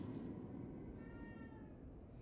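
A cat meows inside the horror video game The Evil Within 2, a soft, drawn-out call set against a steady low ambient rumble.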